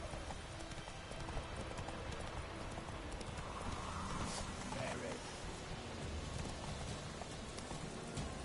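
Roach, a horse in a video game, moves along with rhythmic hoof clip-clops over a dense, noisy background and a brief whinny, fairly faint and continuous throughout.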